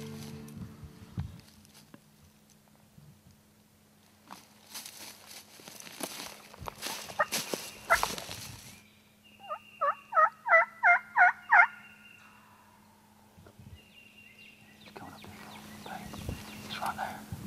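A wild turkey gobbles during a turkey hunt in the woods: a run of about five rapid, rolling gobbles rings out clearly at mid-distance, framed by rustling footsteps, a low steady hum and faint whispering.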